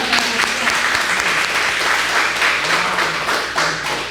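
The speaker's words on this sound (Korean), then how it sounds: "다시 한번 우리 박수." Audience applause fills a hall after a janggu drum performance at an evening retreat gathering, dense steady clapping from many hands close by with a few sharper taps, lasting the full four seconds with faint voices beneath.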